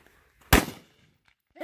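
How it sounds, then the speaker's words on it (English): A single sharp gunshot cracks out loud and close during a 3-gun match, its report ringing briefly before fading, followed by a faint tick and the start of another sound at the end. "Supposed to shoot the steel first"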